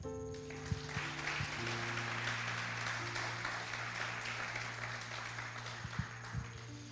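A church congregation gives a soft, sustained round of applause over a steady held keyboard tone, the clapping blending into a continuous wash with a few louder thuds.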